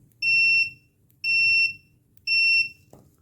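Three evenly spaced high-pitched beeps from an Owon XDM-1041 bench multimeter in continuity mode, each about half a second long, loud and clear with a short click at the end.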